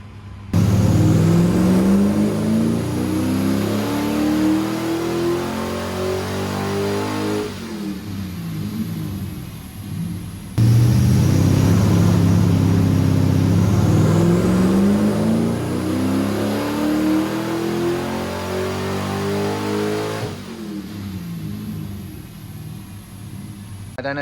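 A Mazda MX-5 NC with a swapped LS1 V8 and new cam roars on a dyno in two long, loud full-throttle pulls. Each pull climbs steadily in pitch before dropping back off, with no one talking.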